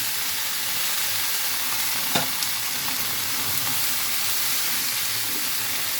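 Finely chopped bottle gourd peel, beans, carrot and potato frying with small shrimp in a pan, a dense continuous sizzle and hiss with a faint stir or two.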